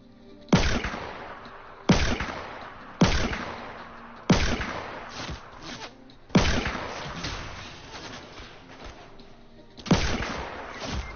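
Pistol fire in the Fortnite battle royale, seven sharp, loud shots at irregular intervals of one to two seconds, each snapping in and decaying quickly, with nothing else around them.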